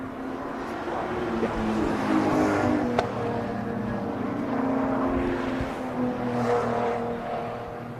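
Race cars come around the final corner at a BMW Car Club GB Sommerfest meet, a steady, broad engine roar at moderate distance with swelling passes.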